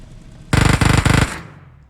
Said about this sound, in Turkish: Hemen arkamızda da bir çatışma var.